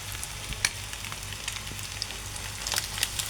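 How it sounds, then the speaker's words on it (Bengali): Potato pieces frying in a pan, a steady crackling sizzle with sharp pops and spits scattered throughout, close and fairly quiet, with no voices. "এখন আমি আলুটা দিয়ে দিচ্ছি।"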